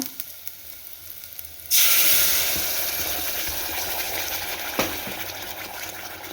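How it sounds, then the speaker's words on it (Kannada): Ground masala hits a hot pan with a sudden loud sizzle that holds steady for several seconds, with a single sharp clink partway through. "ಈಗ ರುಬ್ಬಿರೋವಂಥ ಮಸಾಲೆ ಹಾಕ್ಕೊಳ್ಳೋಣ."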